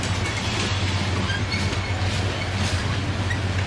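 A BNSF freight train with two distributed power locomotives passes in Montana, producing a loud, steady, close rumble of wheels and cars over a constant low engine drone, with no talking.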